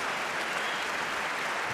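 Audience applause at a debate, a dense, steady wash of clapping from a crowd filling the whole stretch at moderate loudness, with no voices over it.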